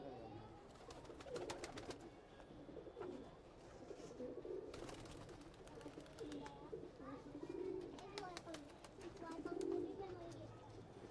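Pigeons, including white-eyed Aseel and black male fancy pigeons, cooing repeatedly at close range beside someone speaking, with sharp clicks and bird calls scattered through the loft.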